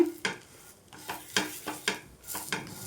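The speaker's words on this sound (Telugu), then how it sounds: "ఇప్పుడైతే రెండో వైపు తిప్పేసుకుందాం." Ragi flour bun dosa turned in a pan, with scraping spatula strokes and light metallic clinks over a faint sizzle, several irregular close scrapes with no talking.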